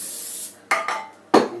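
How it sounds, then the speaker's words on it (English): A hissing aerosol cooking oil spray onto a pie dish, first one longer burst, then two short quick sprays after a pause. "we're just using good old-fashioned spray."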